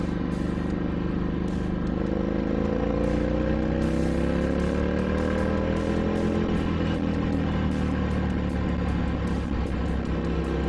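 A Ducati motorcycle engine runs close and loud as the throttle is rolled on and off, its pitch climbing and easing back in smooth waves over a constant drone.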